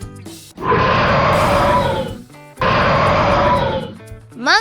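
A lion gives two long, loud, rough roars with a short gap between them. Brief chirpy tones come before and after.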